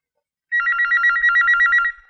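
A home telephone rings in a domestic comedy scene, a steady electronic trilling ring in rapid repeated pulses lasting about a second and a half, loud and close with no talk over it.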